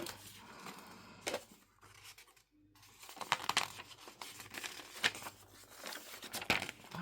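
Someone cuts a paper file folder with scissors up close, giving faint crinkling and snipping sounds in short irregular bursts, with one brief silent pause.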